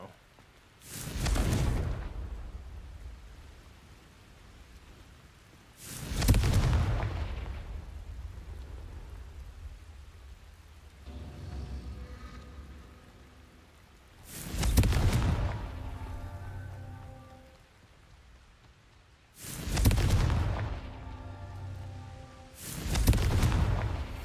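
Confringo explosive spell blasts from the video game Hogwarts Legacy: five heavy, booming explosions spaced several seconds apart, each with a rumbling decay, over a low background of game ambience.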